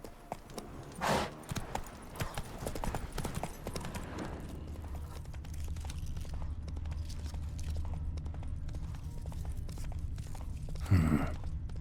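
Horse hooves clip-clopping in The Witcher 3, a steady walking rhythm of close, fairly loud hoofbeats over a low ambient rumble, with a brief louder thump near the end.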